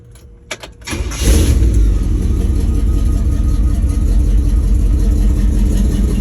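A 1949 Chevy 1500 pickup engine cranks briefly, catches, and settles into a loud, rough, rumbling idle close by.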